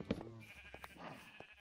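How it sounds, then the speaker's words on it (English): A sheep in a video game lets out a short bleat right at the start, followed by a couple of fainter blips, all quiet and brief. "The sheep need grass for wool anyways."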